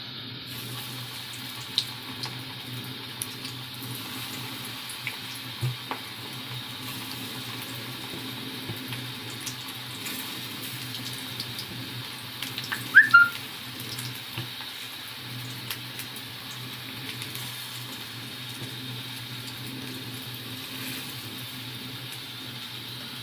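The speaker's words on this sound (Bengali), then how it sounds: "এরপর আমি এক এক করে পকোড়াগুলো ভেজে নেবো" A steady, even hiss of food frying in hot oil runs throughout, broken by a few faint clicks and one brief clatter midway.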